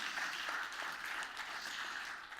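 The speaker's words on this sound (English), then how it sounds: "Please give a big applause to Karoli." An audience at a startup founder-stories event applauds a speaker, a steady wash of many hands clapping that continues throughout without pause.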